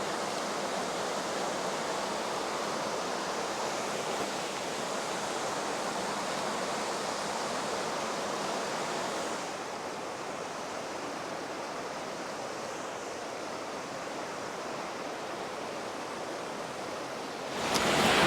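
Steady broadband rushing of a waterfall in Fiordland National Park, New Zealand, constant and enveloping, dipping slightly midway and swelling at the very end.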